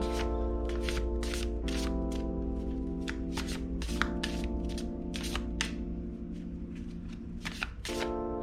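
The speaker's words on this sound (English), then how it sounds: "I'm just going to pull decks and cards as I feel drawn to them" An oracle card deck is shuffled in a fast, crisp riffling rhythm close by, with steady repeated flicks of cards over a low, constant background hum.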